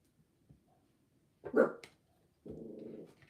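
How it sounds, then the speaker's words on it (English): A dog next door barks at a distance: one short burst, then a longer run of rapid barks, fairly quiet in an otherwise still room. "It's next door's dog's barking, and that's why my dog is barking"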